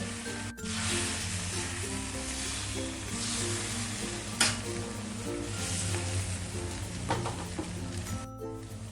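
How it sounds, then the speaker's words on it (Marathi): Dosa batter sizzles on a hot pan with a steady frying hiss and small crackles, close and continuous, with a few faint clicks and scrapes. "वरून थोडंसं असं डोश्याचं पीठ घालायचं म्हणजे डोश्याला छान जाळी सुटते"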